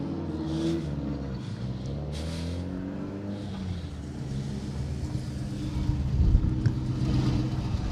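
Aston Martin rally car accelerating along an asphalt rally stage at the East Riding Stages, a steady engine rumble that grows louder as it approaches, with a throatier surge near the end.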